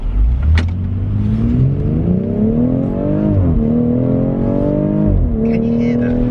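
A BMW X3 M140i all-wheel-drive SUV engine revs hard from inside the car, its note climbing steadily, then dropping sharply at two gear changes before rising again, loud and continuous throughout.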